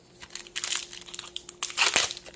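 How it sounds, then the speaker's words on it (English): A foil Magic: The Gathering booster pack from March of the Machine: Aftermath is ripped and crumpled open, with bursts of crinkling and tearing foil, a pause, then a louder final crunch as the wrapper gives way. "I decided to utterly destroy that pack, but it still can't get the cards out"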